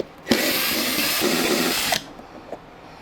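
A power drill-driver backs screws out of the handle of a 24-liter Sapa cooler, whirring loudly and steadily for under two seconds, then stopping, followed by a few faint clicks.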